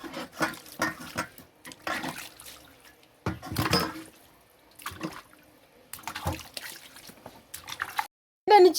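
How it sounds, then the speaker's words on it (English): Water splashing and dripping while a slaughtered duck is washed, coming in short intermittent bursts with quiet gaps, close up, with a brief voice near the end. "So after you have washed your duck, you can decide to salt it or not."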